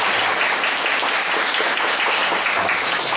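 Dense, steady applause from an audience at an interpreted talk session, many hands clapping together at full volume without a break for the whole stretch.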